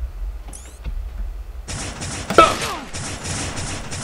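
Sniper rifle gunshots in a video game ring out as a few sharp cracks among continuous loud game noise, with one prominent report near the middle over dense background clatter.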